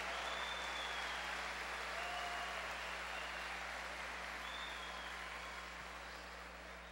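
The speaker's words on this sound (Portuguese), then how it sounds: "E já pode aplaudir o seu irmão que é o guerreiro do louvor" A church congregation applauds steadily for a praise singer, a dense wash of clapping that holds for several seconds and slowly fades, with a low electrical hum underneath.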